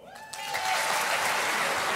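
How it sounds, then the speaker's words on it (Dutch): Theater audience breaking into applause for a spoken word artist, the clapping swelling quickly from quiet into a loud, sustained roar of many hands. "Uw applaus voor woordkunstenaar Chris Blok"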